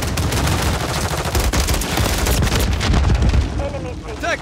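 Dense, continuous gunfire and explosions in a Call of Duty Modern Warfare 3 Moshpit multiplayer match, loud automatic bursts layered with blasts, and brief radio-style voice callouts near the end.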